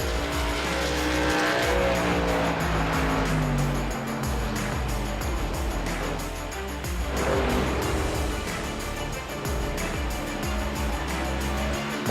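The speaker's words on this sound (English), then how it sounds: "More trucks still heading out." NASCAR race trucks drive out onto the Talladega track with a loud, continuous engine roar, and rising and falling drones pass by over a broad crowd and ambient wash.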